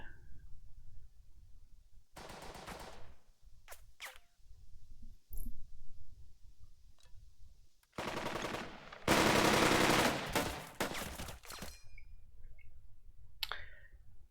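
Rifle fire from a World War II squad battle in the Burden of Command strategy game, with scattered distant shots and short bursts crackling against near silence, some bursts long and dense, no voices.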